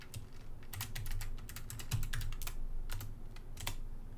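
Quick bursts of keystrokes on a computer keyboard as a command is typed, with crisp close clicks in irregular clusters and no voice.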